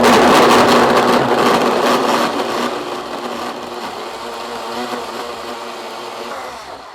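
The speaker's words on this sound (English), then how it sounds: "This is a very powerful blender." A powerful countertop blender purees hot roasted tomato soup, a loud, steady motor whine with churning liquid that eases slightly in pitch and level as the contents smooth out, running alone throughout.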